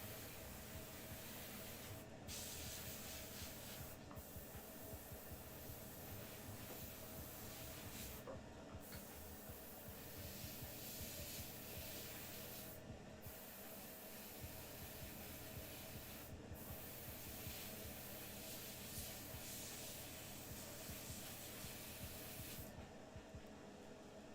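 Airbrush spraying pink and yellow paint gives a faint, steady airy hiss through the whole stretch. It breaks off in several brief gaps where the flow is paused.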